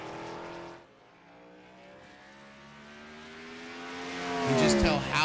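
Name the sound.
race car downshifting at Mid-Ohio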